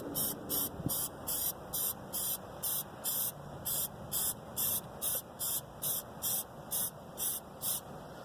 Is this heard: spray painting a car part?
yes